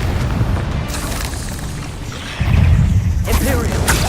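A Confringo fire spell bursting in Hogwarts Legacy, a deep booming blast that swells loudly midway, with a voice speaking over parts of it.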